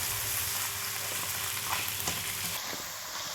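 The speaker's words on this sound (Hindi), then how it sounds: "टमाटर की पेस्ट भी मैंने अच्छी तरह से भून लिया है" Tomato paste with ginger and garlic fries in a pan, producing a quiet, steady sizzle with a few faint stirring scrapes, then a shift in tone near the end.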